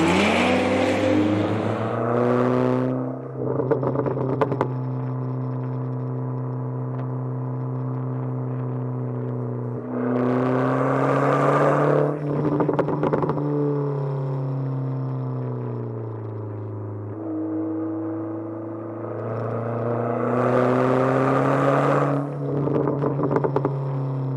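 A Dodge Neon SRT-4 drives with a loud, close engine drone, its pitch rising through several revving pulls and easing back between them, with sharp bursts of intake and exhaust noise at each surge.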